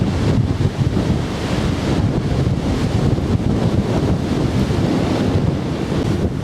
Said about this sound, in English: the wind's so strong it blew my hat away.